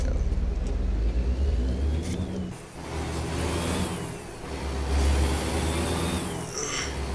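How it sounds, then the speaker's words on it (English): A heavy truck rolls past in Truckers MP on Oregon roads between Cools Brook and Newport, its steady engine rumble loud and continuous, swelling and easing over several seconds without speech. "There's a truck coming up."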